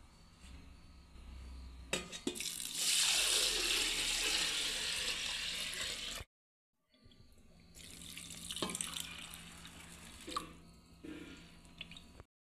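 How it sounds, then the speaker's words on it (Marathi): Plenty of water poured into a container over soaked bajra (pearl millet) and wheat for a traditional Khandeshi millet vada recipe, a loud steady splashing gush that runs for several seconds, stops briefly, then resumes more softly. "बाजरी आणि गव्हामध्ये आपल्याला आता भरपूर असं पाणी टाकून घ्यायचं आहे"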